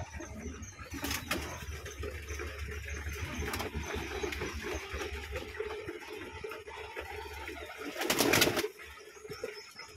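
A pigeon farm holds about a hundred pairs of birds. Steady low cooing fills the space, with brief bursts of wing flapping or rustling cutting in, one of them louder near the end.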